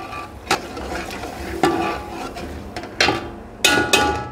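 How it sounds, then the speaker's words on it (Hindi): Spoon scraping and clanking in a pan while stirring white gravy over a low gas flame, with several sharp metallic knocks spaced irregularly over a soft background of stirring. "उसके बाद आप इसको मिक्स कर दें।"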